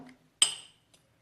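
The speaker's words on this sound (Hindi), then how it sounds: "इन सब इंग्रेडिएंट्स को एक कांटे की मदद से अच्छे से मिक्स कर लेंगे।" A fork clinks once sharply against a mug while stirring dry ingredients for an eggless chocolate microwave mug cake, followed by a faint second tap in an otherwise quiet kitchen.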